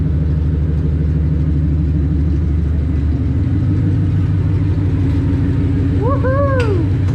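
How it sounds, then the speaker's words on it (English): A car engine, running again for the first time since October 2019, idles with a steady, loud, throbbing low rumble that shifts pitch slightly partway through, with a brief chirping squeal near the end. "Listen to that thing idle."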